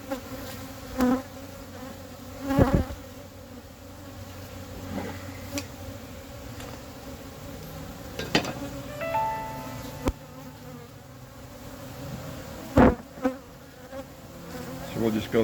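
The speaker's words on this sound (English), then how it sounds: "Bees are trying to clean that up." Steady insect buzzing from many honey bees around honeycomb, a close hum with occasional louder passes as individuals fly near, plus a few faint clicks and bumps.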